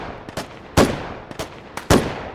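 Gunfire in the virtual reality shooter H3VR: a few sharp, loud shots in an uneven rhythm, close by, each with a short ringing tail, no voices.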